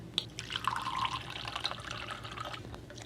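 Liquid pours from a one-cup measuring cup while homemade vanilla extract is made, a steady close trickle and splash with small drips, running continuously and alone.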